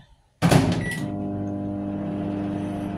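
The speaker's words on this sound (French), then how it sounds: "Et on met au micro-ondes 2 minutes." A microwave oven starts up with a sharp click and loud initial clatter, then settles into a steady, close electrical hum that runs to the end.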